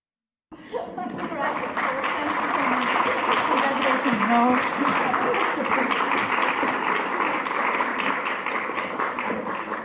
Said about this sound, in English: we have to give one more round of applause to the honorees and presenters